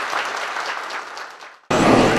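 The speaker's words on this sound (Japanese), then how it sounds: "皆様盛大な拍手をお願いいたします" Short burst of applause at the ribbon-cutting opening of an exhibition of works by living national treasure ceramicist Inoue Manji: clapping that fades, a brief gap, then a sudden loud resumption of dense clapping.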